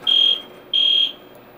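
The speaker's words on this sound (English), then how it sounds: "You have your alarm if you get trapped in the elevator." An elevator emergency alarm bell buzzes in two loud, steady high-pitched bursts, each about a third of a second, separated by a short gap.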